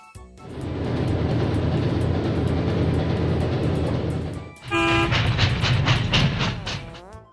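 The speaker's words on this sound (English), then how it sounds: "Subway train." Subway train rumbling steadily past at close range for several seconds, then a brief break and a renewed rolling roar with rhythmic clatter and a high tonal whine.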